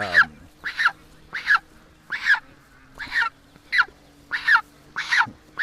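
A goose honks in nine loud, close calls spaced about half a second apart, each a short nasal blast over a faint low hum.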